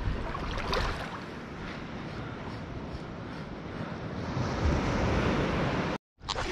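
Choppy sea water churns and slaps at a fishing spot in Narra, Palawan, a continuous close wash of surf mixed with heavy wind buffeting on the microphone, cutting off abruptly at the end.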